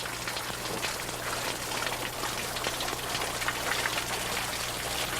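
Water pours and splashes steadily through carved stone Inca ritual fountains, a dense, loud, continuous rushing with no voices.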